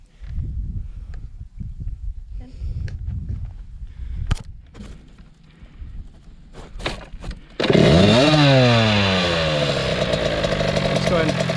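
A Kawasaki KX100 dirt bike engine starts after a stretch of low rumbling and knocks, then runs loud and close, revving and rising in pitch before settling into a steady buzzing idle, with people talking early on.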